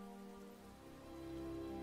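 Rain patters softly as a sound effect layered into the nighttime rainy Skyrim suite music, a faint, steady wash of drops beneath sustained musical tones.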